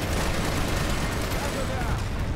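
Dense, continuous gunfire in the online shooter Planetside 2, a sustained wash of rapid shots and blasts played loud and steady throughout, with no pauses.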